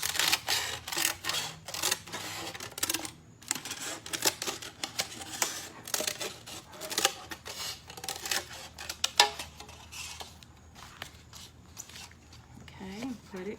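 A paper plate is cut in half with scissors for a watermelon piñata craft, giving a run of close, crisp snipping and rustling strokes, loud and steady at first and then thinning out.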